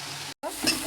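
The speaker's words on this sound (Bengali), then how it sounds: "আমি ক্যাপসিকাম গাজর ভেজে নিই" Capsicum and carrot frying in a pan for fried rice, a soft close sizzle cut by a brief gap, then stirring and hissing resume at a gentle level.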